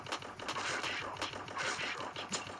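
Rapid bursts of gunfire crackle continuously, dense and sharp, automatic weapons firing in the action game Desert Riders, with no talking.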